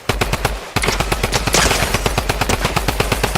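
Drum gun fire in the Fortnite video game, a rapid, steady burst of loud automatic shots after a brief pause, continuing throughout with no talk.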